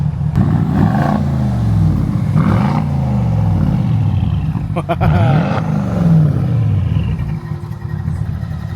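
A Porsche 955 Cayenne Turbo V8 with a muffler delete and X-pipe gives a loud, deep exhaust rumble close by, rising and falling through several throttle blips, while people talk over it.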